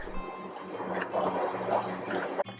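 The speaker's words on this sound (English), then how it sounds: "Fill the wok with stock before pouring in the lala" Stock poured into a wok at a Kuala Lumpur seafood noodle stall: a steady, moderately quiet liquid stream with splashing and faint dribbles for a couple of seconds, ending in a brief clatter.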